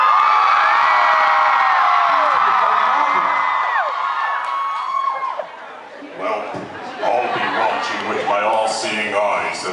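An audience cheers, whoops and shouts loudly at a live concert at the House of Blues, the roar fading into crowd chatter and scattered voices.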